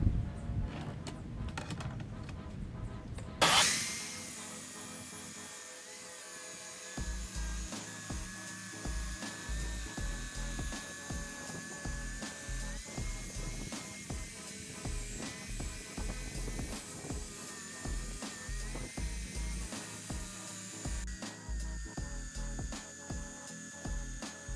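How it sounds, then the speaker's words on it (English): A Porter Cable tabletop tile saw slices through a porcelain plank, with a sharp start-up, then a steady high whine and grinding rasp as the blade bites, loud and close for a long continuous cut. "so let's cut this porcelain plank"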